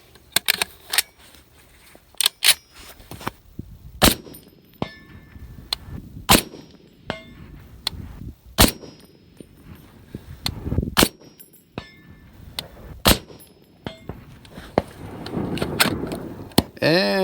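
An M1A rifle fires at a steel target, with a series of sharp, widely spaced bangs and ringing metallic clangs spread through the clip, some quieter handling noise between shots.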